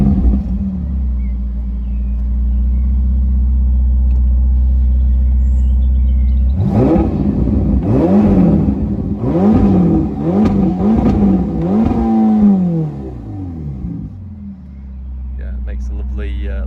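A 2016 Ferrari California T 3.8 V8 with F1 dual-clutch gearbox fires up from idle, then blips through several sharp, rising revs before settling back to a steady burble, close and loud, with a voice briefly heard.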